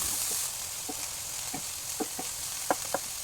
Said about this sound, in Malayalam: ഒരു സവാള ഫൈനലി ചോപ്പ് ചെയ്തതൊന്ന് ആഡ് ചെയ്ത് ആവശ്യത്തിന് ഉപ്പ് ഇട്ട് നല്ലവണ്ണം ഒന്ന് സോട്ട് ചെയ്തെടുക്കാം